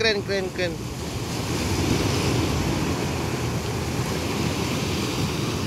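Ocean waves seen from a ship bound for Sabang wash in a continuous broad roar mixed with wind buffeting the microphone, and a brief voice comes through at the start.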